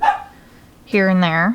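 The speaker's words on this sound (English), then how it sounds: "That's my dog, sorry." A pet dog barks twice indoors, one short yip followed by a longer, loud, drawn-out bark, with a person speaking briefly before it.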